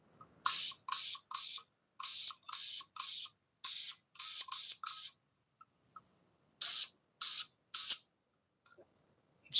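Short, close hissing bursts of spray paint, about a dozen, are squeezed out in quick uneven pulses with brief silent gaps and a longer pause midway. There is no talking.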